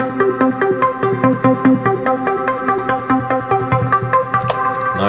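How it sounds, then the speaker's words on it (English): A bass line is played on a Genesis CM synthesizer: a steady run of evenly spaced, bright, buzzy notes repeating in a tight rhythm, loud and clear with no voices over it. "This is another synthesizer. It's called the Genesis CM."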